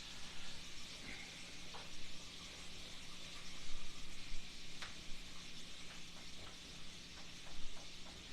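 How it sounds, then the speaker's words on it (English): A flour roux for brown gravy being stirred in a pan, a soft steady sizzle and hiss with scattered light scraping and tapping of the utensil, quiet and close, no talk. "We want to stir this roux"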